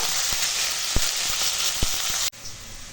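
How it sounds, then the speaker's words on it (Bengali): Bitter gourd pieces fry in hot oil in a pan, giving a bright continuous sizzle with a few knocks of a spatula. The frying cuts off sharply near the end to a quieter background, and there is no talk. "করলাটা একটু ভেজে নেব।"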